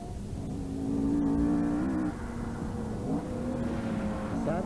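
An Opel Manta rally car on loan competes in the 1988 Donegal International Rally, its engine droning at a steady pitch, swelling briefly as the revs rise and shifting tone as it passes.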